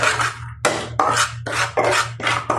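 Semolina frying in ghee in a pan is stirred with a utensil, giving loud, close, rhythmic rasping scrapes, about five strokes separated by short pauses.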